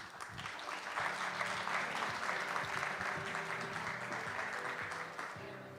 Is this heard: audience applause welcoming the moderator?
yes